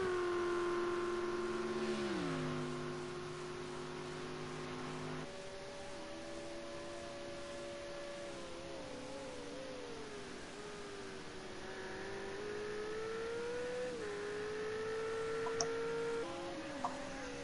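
A race car at Bathurst runs down the Conrod Straight with a loud, sustained engine note that shifts pitch at gear changes and holds a high steady drone, close-miked and without talk.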